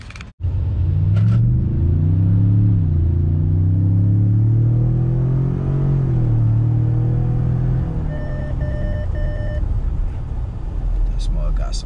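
A 2020 Ford F-150 Lariat pickup with the 502A package and automatic transmission accelerates hard, its engine rumble rising and dropping through quick gear shifts, loud and close with a steady road roar underneath.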